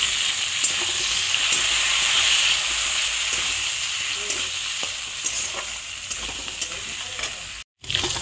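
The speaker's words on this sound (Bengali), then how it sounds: "আলুগুলো একটু ভাজা ভাজা করে নেওয়ার পরে" Potatoes sizzle in hot oil with grated onion, a close, continuous frying hiss broken by spatula stirring clicks, with a brief drop to silence near the end.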